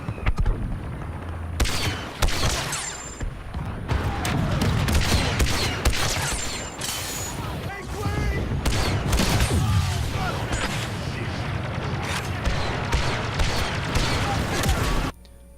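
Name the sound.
blaster rifle fire in video game Star Wars Battlefront 2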